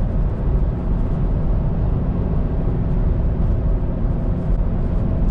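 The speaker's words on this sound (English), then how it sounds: "So this is what the wind noise sounds like at 60 miles an hour" Steady, unbroken wind roar inside a car cruising at 60 mph, a dense low rumble with hiss layered above, holding constant for several seconds with no talking.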